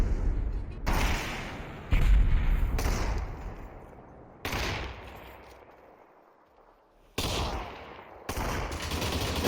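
Sniper rifle fire in the video game Population: ONE, heard as several loud, sharp broadband shots that start abruptly and trail off into long decaying tails, spaced irregularly across the stretch.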